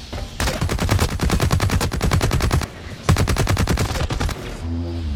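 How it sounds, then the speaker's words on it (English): Sustained automatic gunfire from the Blacklight Retribution first-person shooter, two long rapid bursts of rattling shots, loud and close, separated by a brief pause and ending in a low electronic hum. "What are we all shooting at?"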